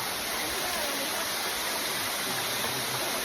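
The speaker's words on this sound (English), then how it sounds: "we made it to the first waterfall" A waterfall roars in a steady, dense broadband rush that fills the whole clip without pause, close and constant, with no clear speech over it.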